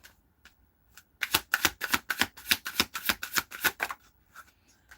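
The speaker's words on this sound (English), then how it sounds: "Shuffle." A deck of playing cards is riffle-shuffled up close, a rapid burst of crisp flutters lasting about three seconds between faint handling noises.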